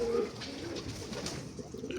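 Domestic pigeons coo softly nearby, a few low throaty burbling calls over a quiet indoor background, with no talking.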